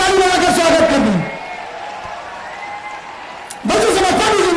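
A crowd claps for a Hamirpur-Mahoba candidate at a Bahujan Samaj Party election rally in Atarra, Banda, with steady, moderately loud applause between stretches of amplified speech.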